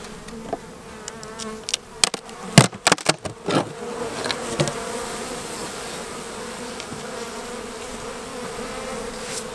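A dense, steady buzzing hum of many honeybees in a hive during winter fondant feeding, with a burst of sharp clicks and knocks near the start before the drone settles.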